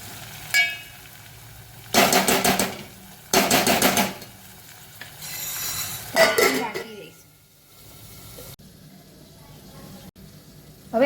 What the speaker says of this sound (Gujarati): હવે બધું આપણે મિક્સ કરી લઈશું